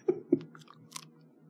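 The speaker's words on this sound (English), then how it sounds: "chewing this shit is a fucking chore" Close, wet chewing of a small crunchy snack square topped with cream cheese, with two sharp crunchy bites at the start followed by softer mastication, no talking.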